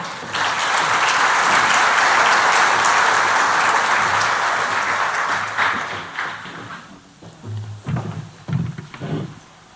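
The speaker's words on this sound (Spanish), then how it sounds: "Recibámoslos con un fuerte aplauso." A large summit audience gives loud, sustained applause welcoming panelists at a tertiary education panel; the clapping fades out after about six seconds, leaving scattered thumps and shuffling.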